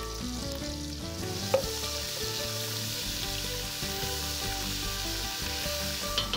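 Pestata rendering in a pot for beef and potato goulash, a steady close sizzle and frying crackle with a couple of faint utensil knocks, continuous and without speech.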